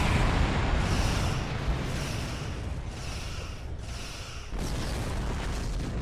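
Torpedoes fired in the space video game Star Trek Online explode as deep, rumbling booms in a continuous loud wash, with a dip and then a renewed surge.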